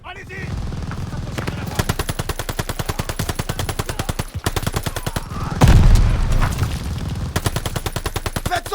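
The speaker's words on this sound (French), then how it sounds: "Faut s'occuper de cette mitrailleuse!" Machine gun fire in Call of Duty Vanguard's Operation Tonga rattles out in long, rapid bursts with brief gaps and a heavy blast near the middle, while soldiers shout over it.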